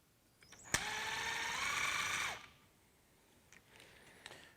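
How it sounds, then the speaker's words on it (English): A power driver whirs for about a second and a half as it backs an Allen screw out of a servo mount on an SCX6 build. It spins up sharply and winds down, followed by faint clicks and small handling noises. "remove the 4 Allens that are holding the servo to the servo mount"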